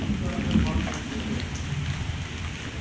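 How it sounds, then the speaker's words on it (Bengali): Steady rain patters on surfaces outdoors near a house and kitchen during a storm, a dense even hiss with low rumbling thunder beneath it, held at a moderate level throughout. "রিমঝিমে ধারাতে বৃষ্টি পড়ছে।"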